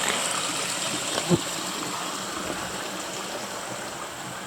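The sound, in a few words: flowing brook, Trout Brook stream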